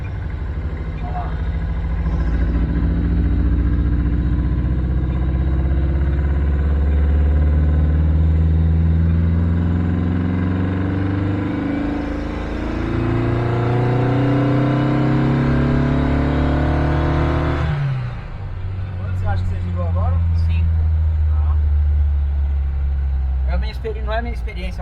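A 1957 car's engine with an upgraded camshaft, revved hard again and again: long rising, straining pulls that drop off sharply and climb back, loud and close, with someone talking at times over the engine.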